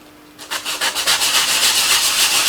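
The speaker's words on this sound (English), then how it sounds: "just a bit of sandpaper and we're going to rough that area up" Sandpaper roughing up a shiny plastic surface on a model roundhouse, a loud close run of rhythmic rasping strokes that quickly settles into a continuous scrubbing.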